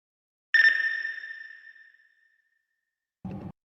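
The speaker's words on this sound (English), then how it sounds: "a little bleep sound, which I've used in a couple tracks before." A single electronic bleep from a music track is drenched in heavy reverb, its clear tone trailing away over more than a second, then a short, low, muffled burst follows after a pause.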